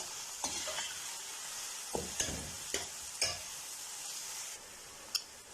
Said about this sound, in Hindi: प्याज को हल्का गोल्डन होने तक जो हमने फ्राई करना है।